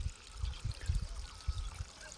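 Water pouring and trickling into a rice paddy nursery in a hill village in Pithoragarh, Uttarakhand, a low, uneven flow with soft gurgling surges, close and fairly quiet.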